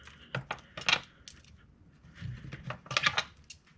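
Metal bolts from an Evo X engine bay clinking and jingling as they are scooped up by hand, a burst of close, bright metallic taps and rattles with short pauses between handfuls.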